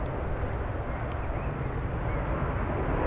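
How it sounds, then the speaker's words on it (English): An airplane passes over a golf course in Cheadle, Cheshire, as a steady, dense broadband roar with a low rumble that holds at constant loudness throughout, with no voices. "there's planes coming over every 5 seconds"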